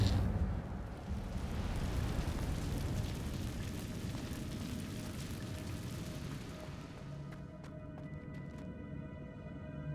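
The Incendio fire spell in Hogwarts Legacy erupts as a loud, rumbling whoosh of flame that roars steadily for several seconds, then fades into faint crackling and small pops.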